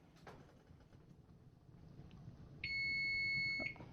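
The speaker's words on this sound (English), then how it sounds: "And of course my timer goes off just in the middle." A quiet kitchen hum, then a kitchen timer's high electronic beep tone sounds steadily for about a second before cutting off.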